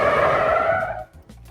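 A 2013 gas EZGO golf cart with a Storm body brakes hard, its tires skidding loudly for about a second before the noise drops off into quiet engine idle.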